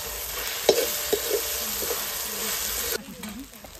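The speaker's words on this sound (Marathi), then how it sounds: "बारीक चिरलेले टोमॅटो टाकते।" Finely chopped tomatoes go into hot oil with mustard seeds for a chickpea and potato curry, giving a steady sizzle and frying hiss with a few stirring clinks near the start. The sizzle settles lower toward the end.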